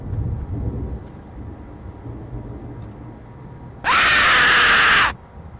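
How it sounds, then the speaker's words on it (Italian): A sudden, loud scream cuts in for about a second inside a horror video game, rising abruptly over a low, murky ambient drone and then stopping just as sharply. "Sento qualcuno che urla."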